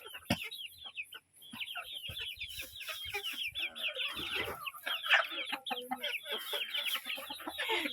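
A flock of chickens clucks and chatters busily up close while pecking at freshly harvested rice stalks tossed to them, a dense, continuous stream of short calls with no pause.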